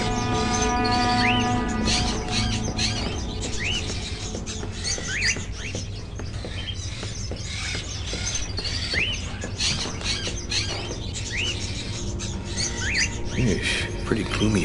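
Caged crows in a game setting give scattered short caws and chirps over a dense, droning ambient background of music and noise, fairly faint and repeating throughout.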